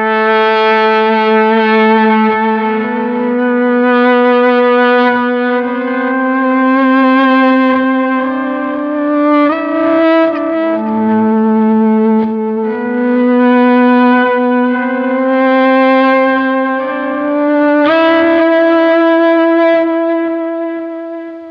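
Electric guitar plays the verse of a song with subtle echo and light effects, a sustained melodic line of held notes and slides, loud and clear with no voices.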